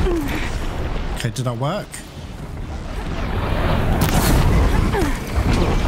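Fire attack set on a robotic machine enemy in the video game Horizon Zero Dawn, heard as a steady roaring, rumbling burn with booming bursts, continuing loud under a player's speech.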